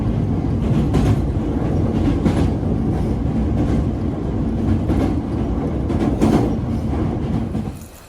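A Hankyu Line commuter train runs with a continuous rumbling roar and rhythmic clickety-clack from the wheels, loud and close throughout before it eases off at the end.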